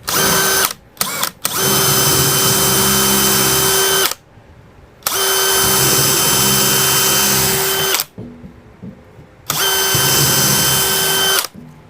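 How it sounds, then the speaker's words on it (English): A power drill whines loudly drilling into a wall in three long bursts separated by short pauses, with a few brief trigger blips at the start. "we'll go back to our handy drill and drill bit, go to the wall here"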